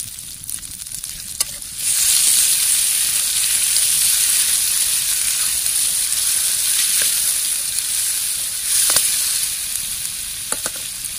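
Tomatoes dropped into hot oil in a pan burst into a loud, steady hiss and sizzle that holds for several seconds with a few stirring clinks, close up and with no talking.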